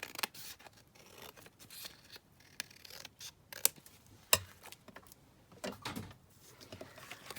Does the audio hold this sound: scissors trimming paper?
yes